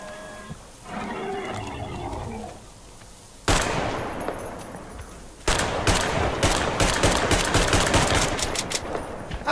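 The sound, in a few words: gunfire in Metro Exodus video game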